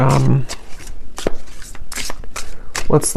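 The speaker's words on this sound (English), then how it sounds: "I just shuffled my deck here, which is the Beyond Mind Oracle" Beyond Mind Oracle card deck being shuffled by hand, giving a run of quick papery riffles and soft slaps that come and go over about three seconds, with brief voice sounds at the start and end.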